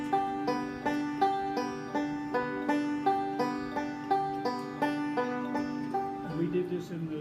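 Bluegrass banjo picks a steady forward roll, bright plucked notes repeating in an even rhythmic pattern close up, played alone without talk.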